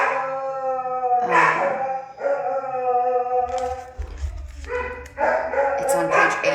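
Several dogs howl and bark nearby, long wavering howls rising and falling with sharper barks breaking in, loud and continuous throughout.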